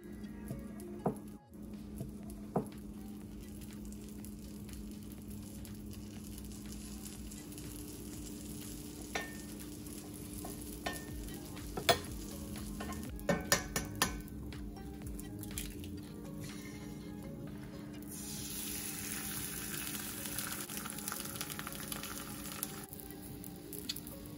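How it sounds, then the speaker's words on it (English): Butter melts in a pan, giving a quiet, steady low sizzle with occasional soft clicks and scrapes, faint and close, with no talk. "I already started melting some butter."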